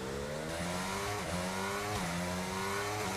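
An F1 car's engine in a racing video game screams at high revs, its pitch climbing steadily and then dropping sharply at each gear change, about twice in a few seconds, loud and continuous with no talk.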